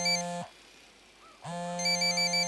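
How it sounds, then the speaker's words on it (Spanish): A cell phone rings inside the Ghost Recon video game: a loud electronic ringtone plays, stops for about a second, then starts again, with no talking over it. "debe ser que tenemos que atender nosotros el celular"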